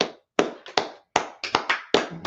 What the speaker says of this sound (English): just clap it up for class